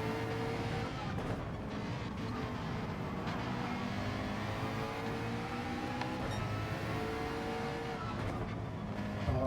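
BMW and Ferrari race cars in Gran Turismo 7 at the Nürburgring Nordschleife, with a continuous loud engine drone and shifting revs throughout and no talk.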